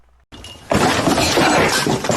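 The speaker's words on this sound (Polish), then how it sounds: "Bo nam rozwalają łóżko." A bed is broken in Minecraft BedWars: after a brief quiet, a loud sharp shattering crash bursts out and carries on as a dense, crunching break for over a second.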